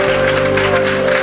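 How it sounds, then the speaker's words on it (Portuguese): A congregation at a Sunday morning church service breaks into loud, dense applause, a brief continuous wash of clapping over a steady background hum. "Aplauda o Senhor Jesus"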